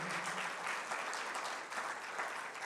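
A church congregation applauds in a continuous, dense wash of clapping heard at moderate distance, brief and steady throughout.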